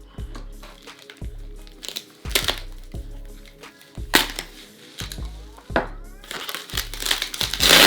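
Paper crinkles and crumples in a run of close, loud, irregular bursts, some bunched and some spaced out, with a low thump under several of them and no clear talk.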